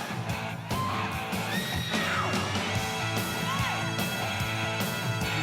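A girl in a concert crowd lets out loud yells and whoops at a live performance, with the band playing steadily underneath throughout.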